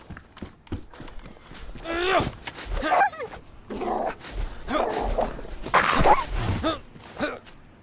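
Dogs in the survival video game Frostline bark and yip in short bursts spread through the clip, mixed with other game sounds and footsteps, under a person talking.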